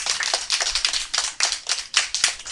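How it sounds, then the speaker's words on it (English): A first grade class claps for a classmate, a brisk burst of many small hands patting in uneven, rapid rhythm, close and fairly loud for a few seconds. "Let's give Rachel a big clap"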